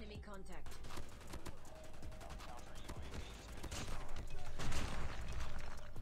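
Rapid bursts of automatic gunfire crackle in Call of Duty Mobile, dense and continuous with sharp repeated shots throughout, while a player talks over the action.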